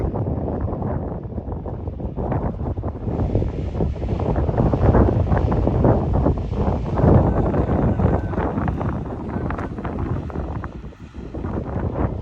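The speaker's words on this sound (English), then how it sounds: "it's starting to get quite windy, so I have to shout for this bit" Strong wind on a hillside on Bleaklow roars and buffets the microphone in a steady, rumbling rush with no let-up, loud and close.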